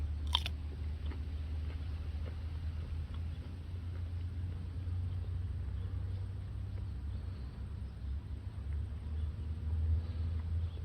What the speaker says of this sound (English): Definitely gets slimy as you chew it.